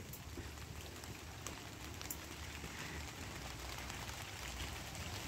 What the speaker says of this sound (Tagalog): Ulan na guys.